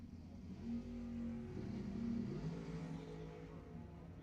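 Drag race cars at a summit ET finals at Lebanon Valley Dragway rev and accelerate off the line, a loud, steady engine roar holding through the clip with rising pitch, no talking.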